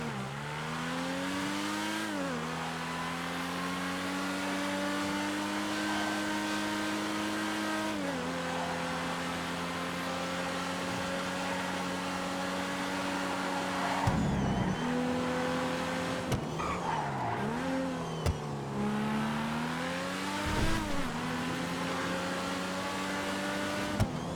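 A motorcycle-class vehicle's engine on a video game test ride holds a steady, fairly loud drone, rising and dropping in pitch with gear changes every few seconds, and a few rough bumps late on.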